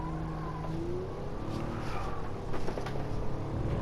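A car engine in Gran Turismo 7 holds a steady, fairly quiet drone as its pitch shifts, with a few brief tire squeals and a louder rise near the end.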